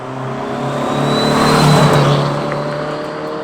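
A turbocharged B16-powered Triumph Acclaim accelerates hard, its engine note climbing and swelling loudly to a peak mid-way before easing off, heard close with no talk.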